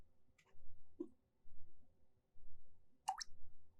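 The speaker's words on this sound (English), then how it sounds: "Dripping noises?" Water dripping inside The Stanley Parable: Ultra Deluxe, a few sparse, crisp drops plopping at irregular intervals, quiet and close over a low steady hum.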